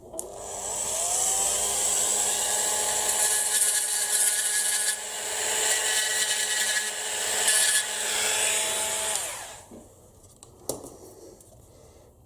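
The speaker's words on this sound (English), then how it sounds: "I'll get the Dremel and I'll just grind those off" A Dremel rotary tool grinds off the plastic pins of a 1/18-scale model car's wipers, a steady high buzzing whine with shifting pitch as it bites, then stops abruptly, leaving small clicks and handling noises.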